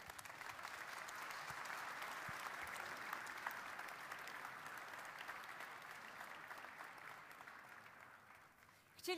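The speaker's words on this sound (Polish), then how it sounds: "Redaktor Tomasz Sakiewicz, brawa!" Steady applause from a large audience at an awards gala, a dense continuous clapping that holds for several seconds before thinning out at the end.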